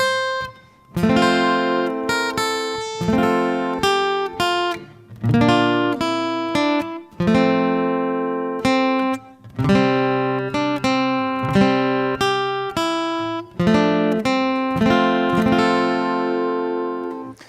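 Guitar chords are strummed in bursts, each ringing out briefly before the next pass, with melody notes standing out over the strum.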